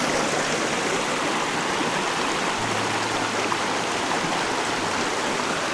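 Scottish Highland burn rushing along in a steady, dense roar of flowing water, close and continuous with no voices.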